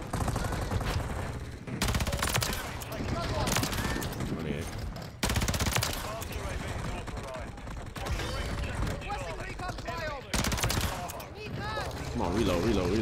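Sustained automatic gunfire in Call of Duty Modern Warfare 3 multiplayer, long loud bursts broken by brief pauses, close and dense, with a player talking over the shooting.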